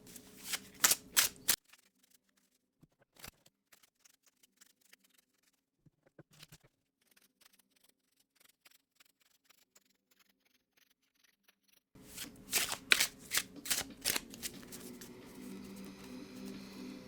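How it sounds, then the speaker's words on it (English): A tarot card deck is shuffled by hand in quick riffling bursts at the start and end, with a long stretch of near silence and scattered light clicks and taps between, close and fairly quiet. "I'm going to go ahead and give the deck a really good shuffle for you."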